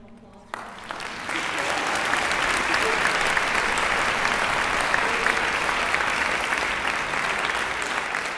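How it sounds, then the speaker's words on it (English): A concert audience at a winter school performance gives sustained applause to four student musicians. It starts abruptly and swells into a dense, steady wash of clapping that continues loud throughout. "So if you would please give those four students a round of applause."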